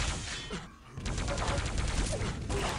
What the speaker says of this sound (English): Some rockets going, but it's not really going to do too much to Ash.